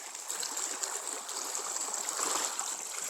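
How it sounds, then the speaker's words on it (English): Water gushes and burbles steadily out of a drain line pushed through a beaver dam after it was cleared of mud, a continuous fairly faint rushing flow with no talking. "all of a sudden it started shooting out like that"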